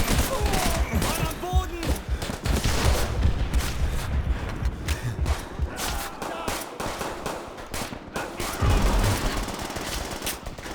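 Dense, continuous machine gun fire in Call of Duty: World at War, rapid bursts and overlapping shots with booming impacts throughout, loud and close, with a voice talking over the battle.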